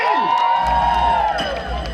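A crowd at a karaoke event cheers and shouts loudly in a continuous roar, with whoops rising above the noise.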